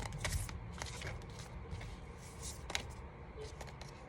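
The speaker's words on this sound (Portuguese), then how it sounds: "Esse aqui é ruim de embaralhar." A deck of tarot-style cards being shuffled by hand, a soft steady run of riffling and sliding card noises with a few sharper flicks, quiet and close with no talking.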